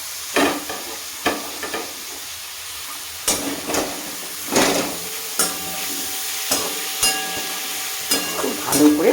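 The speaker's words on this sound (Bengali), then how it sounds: "দিয়ে ভালো করে ভাজা ভাজা করব।" Mashed pointed gourd fries in mustard oil, a constant sizzle broken by repeated scraping strokes of a spatula against the pan, close and fairly loud.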